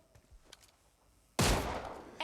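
Gunfire in the mobile shooter PUBG Mobile Lite erupts as a sudden loud burst after quiet game ambience and faint distant shots, with a second shot near the end.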